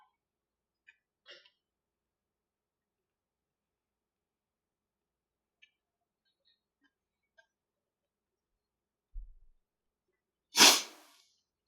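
One sharp sneeze bursts out near the end after mostly silence, preceded by a few faint clicks and a soft low thump.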